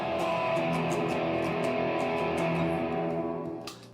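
A clean jazz guitar tone runs through phaser, chorus, delay and reverb effects, producing sustained shimmering chords with a few plucked accents, loud and continuous before fading near the end.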